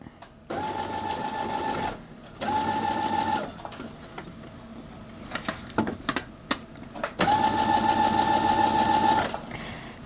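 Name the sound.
sewing machine top stitching a pillowcase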